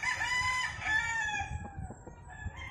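A young dark-legged stag rooster crows once, close and loud, its call sliding downward and fading over a few seconds with farmyard clucking beneath.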